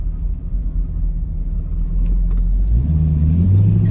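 A supercharged 1963 Studebaker-era Avanti R1 survivor car with low miles runs with a steady low rumble, then the engine note rises as it accelerates near the end, heard up close with no talk.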